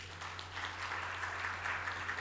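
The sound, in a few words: audience applause for Amitabh Kant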